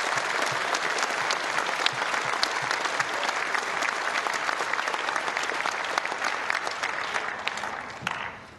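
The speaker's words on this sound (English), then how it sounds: "Ladies and gentlemen, a big round of applause for our runner-up here today, Mona Barthel." Crowd at a women's tennis tournament final in Hobart applauds the runner-up, a sustained, even spread of many hands clapping that holds steady before tapering off at the very end.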